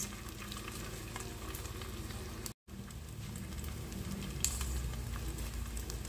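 Chicken balls frying with onions in a pan give a steady, close sizzle and crackle, with faint stirring clatter and one brief break midway.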